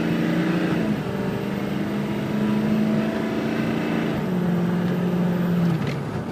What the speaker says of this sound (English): All right, let's do the turbo. There she goes. And it broke the tires loose.